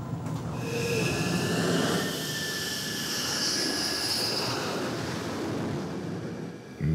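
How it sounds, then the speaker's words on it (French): A fighter jet landing aboard the French aircraft carrier Charles de Gaulle, a loud sustained roaring whine with rushing wind noise that swells and then eases, with no voices. "Mission maîtrisée aussi pour Stone, satisfait d'avoir retrouvé les sensations d'un appontage sur le Charles de Gaulle"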